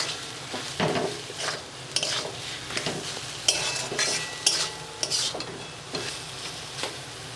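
Potatoes and fish are stir-fried with spices in a pan, giving a soft sizzle broken by repeated scraping and clinking strokes of a spatula against the metal, with no one talking.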